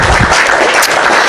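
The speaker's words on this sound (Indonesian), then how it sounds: "Tepuk tangan dulu." Audience applause in a hall, a dense continuous patter of clapping hands that stays loud and steady throughout, with no voices over it.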